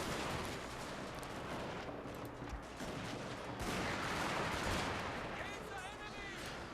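Line infantry musket fire in the strategy game Total War: Shogun 2 – Fall of the Samurai, dense continuous crackling volleys and distant battle noise, with no voice over it.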